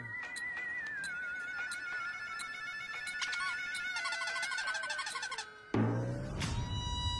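Mobile phone ringtone in an office, a clear repeating electronic melody that plays steadily before ending in a sharp clunk.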